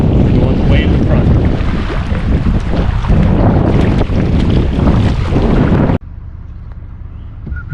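Loud wind buffets the microphone while a canoe is paddled solo in the Boundary Waters, a heavy, continuous roar that drops abruptly to a quieter hiss near the end.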